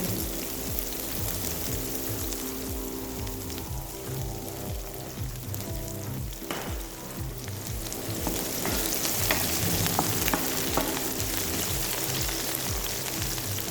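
Ginger and chopped onion fry in a pan for a murg curry, giving a steady close-up sizzle with light crackles and occasional stirring scrapes throughout, with no talking.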